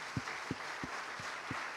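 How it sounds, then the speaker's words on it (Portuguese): Church congregation clapping during a worship service, a faint, distant wash of hands with a steady rhythmic beat about three times per second. "Vamos aplaudir Jesus"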